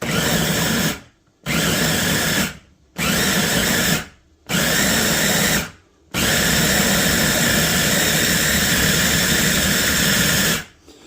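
A food processor pulses a meat mixture in loud, even motor bursts, each one or two seconds long with short silences between, ending in one longer continuous run.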